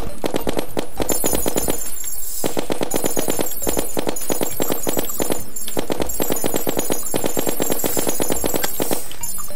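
High velocity bullets in the Terraria video game fire in rapid, dense bursts of loud game shots with bright tonal overtones, steady and continuous, broken by short pauses and heard without talk.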